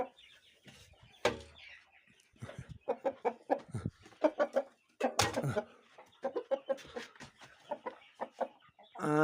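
Chickens and chicks cluck and peep in a farmyard, with repeated bursts of close clucking calls and a few sharper squawks, moderately loud with short pauses.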